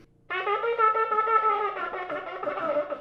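A single loud shofar blast, a fast teruah about three seconds long, rough and wavering rather than clean, sounding alone.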